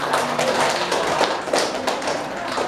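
A classroom group claps in a dense, steady burst of applause lasting a few seconds, loud and close, with no voices over it.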